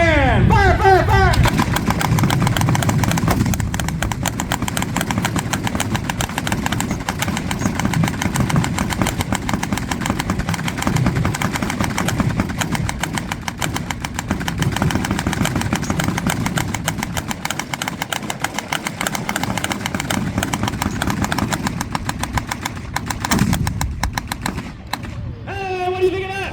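An M4A1 Sherman tank at a live demonstration fires its guns in a long, continuous rattling burst over a rumbling engine, loud and close, lasting more than twenty seconds.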